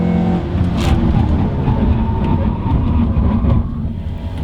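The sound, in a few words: car ABS pulsing and tires squealing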